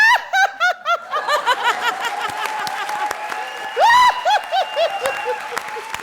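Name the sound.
studio audience applause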